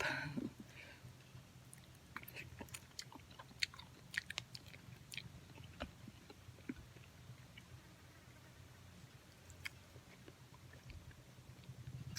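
Eating spicy papaya salad with chicken feet outdoors in a backyard garden, faint, close chewing and crunchy bites scattered irregularly over low background noise, with no talking.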